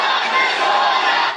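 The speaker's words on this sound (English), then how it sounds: "the vocal crowd wasn't relying on signs alone to get their message across" A dense, loud crowd of protesters shouting together in unison at an outdoor anti-shark cull rally, a sustained roar of many voices close by.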